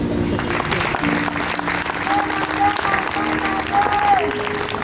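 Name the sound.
audience applauding and cheering in church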